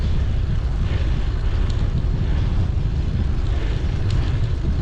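Headwind roars steadily past a road cyclist on a country ride near Kings Cliffe, a dense, unbroken rumble of wind buffeting close to the microphone for the whole stretch.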